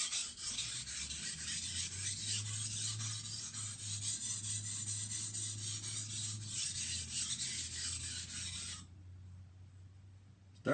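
A knife drawn across a 400-grit KnifePlanet sharpening stone, giving a steady, close scraping rasp of repeated strokes with a low hum beneath, which stops abruptly near the end.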